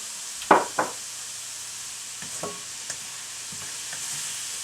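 Beef lo mein with shirataki noodles and sauce stir-frying in a pan gives a soft, steady sizzle with a couple of loud utensil knocks at the start and lighter scrapes after, close by with no voices.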